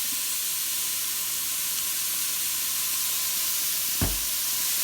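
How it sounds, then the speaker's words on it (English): Beef browning in a pan with garlic salt, a constant even hiss of sizzling fat running throughout, with a single dull knock near the end; no voices. "Stick it into my pan and to get that browned."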